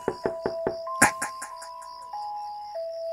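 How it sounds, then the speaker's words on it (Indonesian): Knocking on a front door, four quick raps followed by a louder knock and a few fading taps, with a sustained musical tone underneath. "terdengar suara ketukan pintu di depan rumah"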